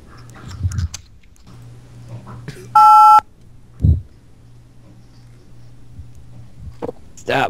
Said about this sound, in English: Stop beeping me!